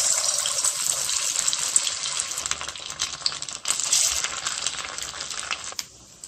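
Rice pakoda fritters made from leftover rice frying in hot oil, a dense, continuous hiss and crackle with scattered sharper pops, fairly close, with no voices.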